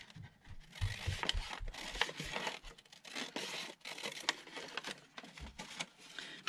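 Scissors cut through paper for a journal, a run of quick crisp snips and rustles close by, with short pauses between cuts and no talking.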